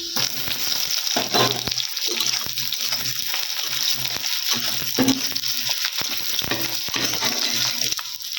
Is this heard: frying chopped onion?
yes